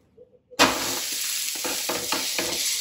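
A paneer uttapam flipped onto a hot pan bursts into a loud, sudden sizzle that holds as a steady hiss, with a few soft scrapes and taps of a spatula, close up.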